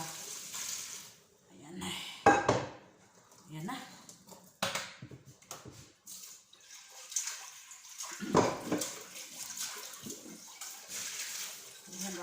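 Cooked macaroni pasta is poured into a strainer, hot water splashing and draining in short bursts, fairly quiet under ongoing talk in a home kitchen.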